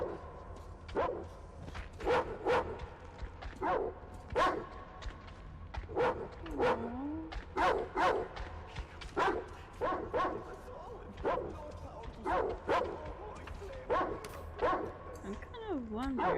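A dog in the post-apocalyptic shooter game Metro Exodus gives a steady series of yips, barks and whimpers, roughly one every second, mixed with a character's speech and game ambience.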